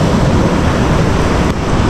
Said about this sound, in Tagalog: Hindi lang tayo makapag fishing pa kasi grabe kalalaki ng alon ngayon.